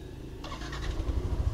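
A Yamaha NMAX motor scooter engine catches and starts running, a low steady putter growing slightly louder after a brief quiet start.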